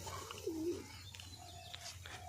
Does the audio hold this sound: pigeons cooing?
yes